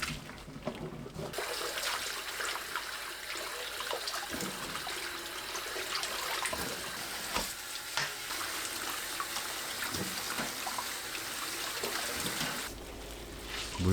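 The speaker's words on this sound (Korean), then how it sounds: "찬물에 두세 번 헹굽니다." Running water splashes continuously as blanched amaranth greens are rinsed in cold water, close and steady with faint clatter, then it stops near the end.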